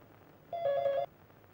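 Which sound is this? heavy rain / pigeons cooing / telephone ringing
telephone ringing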